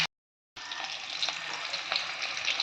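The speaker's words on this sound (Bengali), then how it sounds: "আমি নুন হলুদ দিয়ে আলুটা ভেজে নিয়েছি" After a brief silent gap, potatoes seasoned with salt and turmeric fry in hot oil with a dense, continuous crackling sizzle and scattered pops, close up and with no talking.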